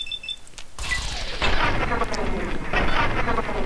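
Gunfire and booming impacts in the Fallout 3 video game during a fight with Reavers in a sub-metro, dense rumbling bursts that build after a brief quiet start.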